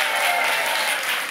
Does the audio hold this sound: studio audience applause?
yes